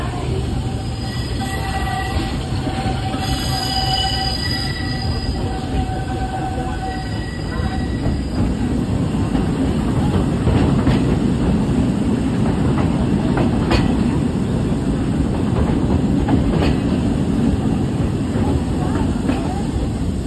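A steady, loud rattle and rumble of a train rolling along the tracks on the route near Big Thunder Mountain at the Magic Kingdom, with continuous clatter, brief squeals and no clear talk.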